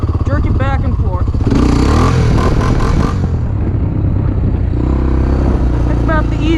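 A 1987 Honda TRX250X quad engine revving hard for a wheelie, a loud buzzy rise and fall heard close, with a voice talking over it.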